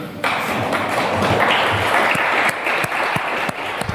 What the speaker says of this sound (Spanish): Deberían aplaudir en este momento